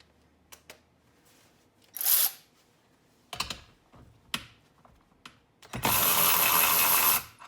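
A Ryobi cordless ratchet tightening a bolt to 20 foot-pounds, with a short motor whir, clicks and handling knocks, then a longer sustained ratcheting buzz near the end, close and loud.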